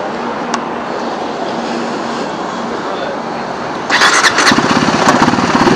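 A KTM Duke 390 motorcycle engine cranks and catches after refuelling at a petrol stop, rising over steady background noise near the end, with voices present.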